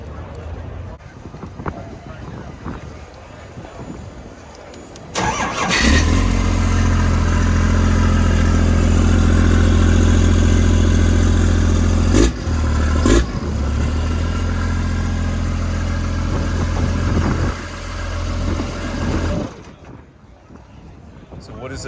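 A 1,000+ horsepower triple-turbo 6.7L Cummins diesel fires up loudly and settles into a deep, steady low idle for about fifteen seconds with a brief dip partway, then cuts off.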